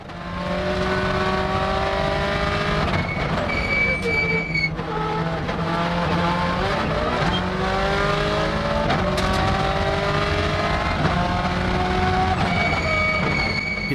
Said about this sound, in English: There was something about the engine noise of that 2000 Subaru.